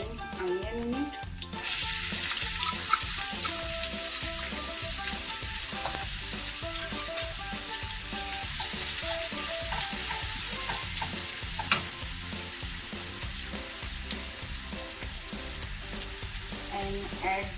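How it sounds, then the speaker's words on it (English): Chopped onion dropped into hot oil in a pan while making poha, bursting into a loud, continuous, close sizzle that holds steady after a brief quieter start. "Now I am adding onion in it."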